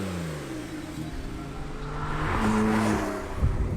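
A Porsche 911 Carrera 4S, the all-wheel-drive S version, revs its engine close by, the tone climbing and swelling before easing off, with a brief tire or mechanical burst near the end.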